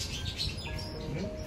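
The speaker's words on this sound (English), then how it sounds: "I want to record the birds singing." Birds chirp and tweet outdoors during a weekend in Lagos, short high calls scattered through steady background noise, moderately faint and without speech.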